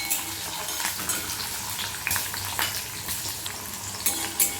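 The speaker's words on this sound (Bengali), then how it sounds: "এবার একটু ভেজে নিতে হবে মশলাটা আগে।" Spices and garlic frying in hot oil in a pan, a steady close sizzle and crackle with occasional stirring scrapes and no voices.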